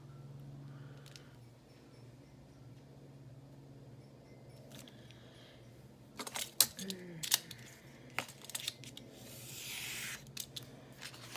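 Scissors cut a piece of paper for a Halloween craft project, heard as a few close snips and rustles in the second half after a quiet stretch of faint room hum, with no talking.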